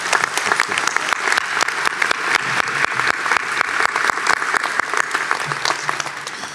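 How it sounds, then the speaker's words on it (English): An audience claps steadily and loudly at a university school of information commencement ceremony, a dense, continuous round of applause filling the hall without talking. "let's give Katie another big round of applause for that inspiring speech."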